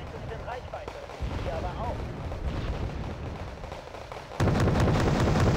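Artillery fire in the Wargame: Red Dragon strategy game, with repeated booming impacts and a sudden louder barrage near the end, all under a continuous dense battle din.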